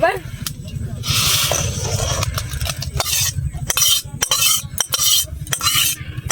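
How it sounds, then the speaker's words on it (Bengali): Boiled pumpkin being strained through a colander into a bowl in a home kitchen gives a run of close, irregular clatters, knocks and scrapes, with short sharp clinks scattered among them. "ছেঁকে নিচ্ছি কুমড়োটা"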